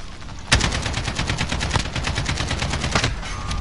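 Rapid automatic gunfire in a Call of Duty Modern Warfare hardcore match, sustained bursts of shots with a sharp louder crack near the start and more distinct reports through the stream, loud and continuous.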